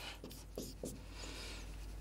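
Writing on a board during an English grammar lesson, a few short faint scratchy strokes of marker or chalk over a steady room hum.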